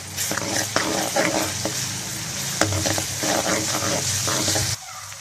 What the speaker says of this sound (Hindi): तो लहसुन अदरक हमारा फ्राई हो चुका है।